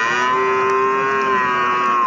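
Cattle moo at a busy livestock market where young breeding cattle are traded during heavy rain, giving one long, steady, loud low call that lasts the whole moment.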